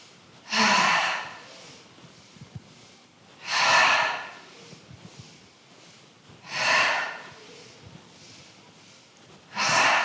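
Slow, deep breaths during a gentle calming breathing exercise, four long airy swells spaced about three seconds apart, close and clear with quiet pauses between and no talking.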